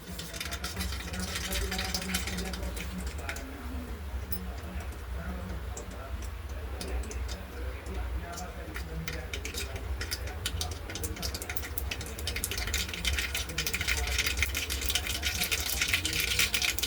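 Mustard seeds crackle in hot oil in a pan while tempering for dal khichdi, giving rapid, irregular popping and ticking over a steady sizzling hiss that grows busier toward the end.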